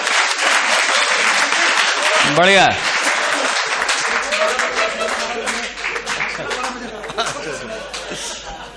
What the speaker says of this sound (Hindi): जोरदार तालियां एक बार इस कविता के लिए